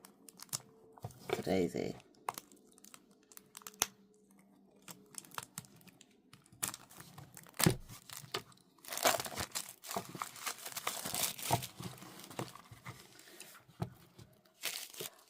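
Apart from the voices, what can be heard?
plastic covering being torn off card decks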